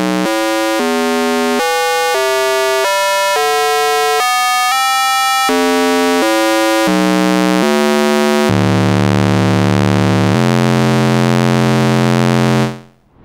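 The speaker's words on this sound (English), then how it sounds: "The ring modulator is also normaled to the filter input," Korg ARP 2600 M synthesizer with its ring modulator feeding the filter, a buzzy metallic tone stepping through a run of sustained notes, then one long low held note fading out at the end; loud, no voices.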